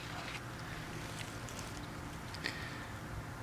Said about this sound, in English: we got a wind that's trying to keep it from burning well